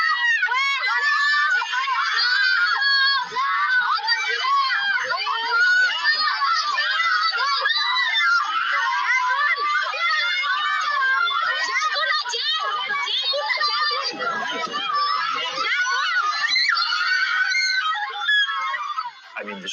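Crowd of children and adults shrieking and screaming continuously over rushing commotion, a dense wall of high-pitched yelling that stays loud throughout.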